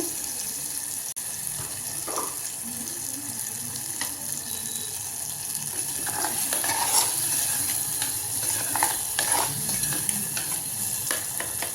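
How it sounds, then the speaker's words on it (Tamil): Chopped tomatoes softening in oil in a pan, a steady low sizzle with scattered scraping and stirring knocks from a spatula, close by and without talk. "கொஞ்சம் நல்லா வந்து தக்காளி வதங்கணும், அதுக்கப்புறம் பீக்கங்காய் போட்டுக்கலாம்"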